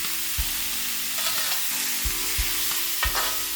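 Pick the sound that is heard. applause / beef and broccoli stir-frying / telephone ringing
beef and broccoli stir-frying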